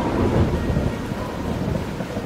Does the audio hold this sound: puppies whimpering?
no